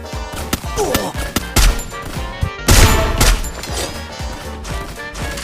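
Dense rapid gunfire from the video game Free Fire, including sniper rifle and SKS shots, cracks loudly in quick bursts and single sharp reports, with a faint voice under it.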